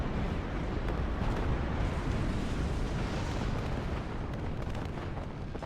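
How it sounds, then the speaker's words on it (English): An artillery barrage pounds the open field in a Warhammer 30K mod game, a thick, continuous roar of shell blasts and rumbling impacts, loud and sustained throughout with no voices. "artillery coming in here, doing some damage to, we actually took out quite a few of them."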